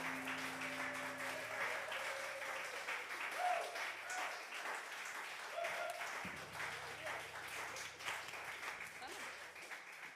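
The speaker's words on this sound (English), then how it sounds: "Again, round of applause." Audience applause follows a live Arts on Fire performance, a steady, dense wash of clapping that lasts throughout with no gaps, a few low sustained tones sitting beneath it and no clear speech.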